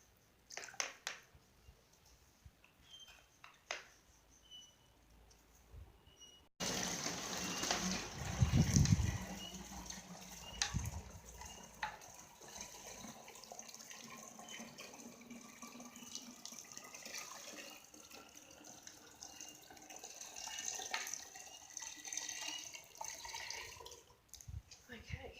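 Compost tea is tipped from a bucket into a watering can, starting partway through as a steady, splashing pour that continues quietly to the end. Faint background sounds come before it.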